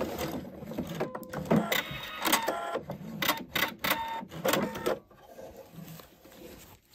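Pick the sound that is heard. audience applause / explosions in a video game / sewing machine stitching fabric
sewing machine stitching fabric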